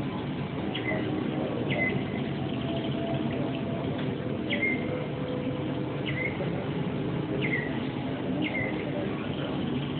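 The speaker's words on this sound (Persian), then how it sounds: "همزمان با صدای پرنده ها" Small birds chirp in short, repeated high calls spaced every second or two, faint behind a steady broadband wash of ambient noise.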